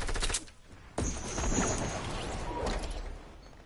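Video game gunfire rattles at a target in rapid bursts, a sharp volley cutting in after a short lull and continuing as a dense, crackling barrage.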